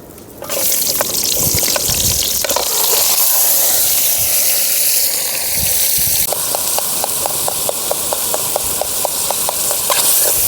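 Tomatoes, onions and curry leaves fry in a pan for village-style chicken gravy, sizzling loudly and steadily while a spoon scrapes and stirs, later in a fast, regular rhythm of close clicking strokes.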